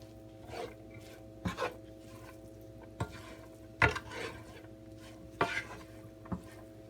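A spoon mixes egg roll vegetable filling in a bowl, giving soft, scattered scrapes and a few sharper knocks at uneven intervals over a steady low hum.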